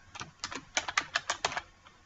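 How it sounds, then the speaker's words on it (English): Computer keyboard typing while entering bibliography author names into a word processor: about eight quick, clicky bursts of keystrokes in uneven rhythm, close and fairly quiet, with no voice. "For practice, we are going to type the example, which is Kramer,"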